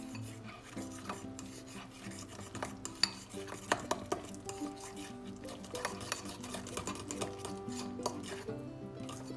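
Spoon scraping and rubbing against a bowl while flour and water are mixed into a thick paste, a quiet run of rasping strokes with a few sharp clinks.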